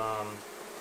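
A honeybee swarm being removed from inside a wall gives a brief, close buzzing hum that fades out within a fraction of a second.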